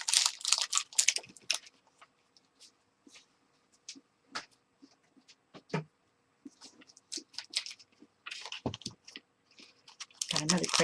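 Crunchy chewing by a person working through boxes and crates of art supplies, heard as scattered close bites and crunches with quiet gaps between, mixed with rustling and handling noises, heavier at the start and end.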